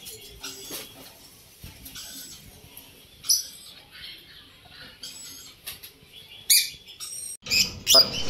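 Lories, parrots, yellow parrots and lovebirds at a bird farm give scattered sharp chirps and short squawking bursts, with faint scratching and fluttering in between and the loudest calls toward the end.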